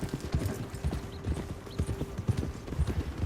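Horse hooves in Red Dead Redemption 2, a steady rhythmic clip-clop of a trotting horse, close and fairly loud over faint ambient game sound.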